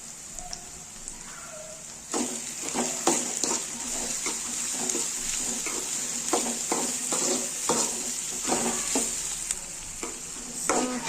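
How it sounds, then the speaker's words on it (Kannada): Sliced onions frying in a pan with added salt sizzle steadily, with repeated scraping stirs from a spatula starting a couple of seconds in and continuing at an uneven rhythm, close and fairly loud. "ಉಪ್ಪು ಹಾಕಿದ್ರೆ ಉಳ್ಳಾಗಡ್ಡಿ ಸ್ವಲ್ಪ ಜಲ್ದಿ ಫ್ರೈ ಆಗುತ್ತೆ."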